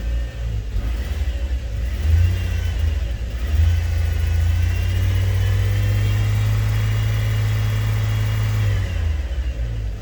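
A Chevrolet Trailblazer engine revs hard and holds a steady, loud high-rpm drone for several seconds before dropping back near the end, revved to warm up the catalytic converter bolts; no talking.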